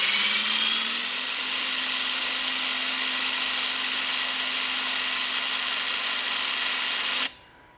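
A HYTORC centerlock wheel gun retorques a race-car wheel, giving a steady, loud high-pitched mechanical whir that holds for about seven seconds before cutting off abruptly.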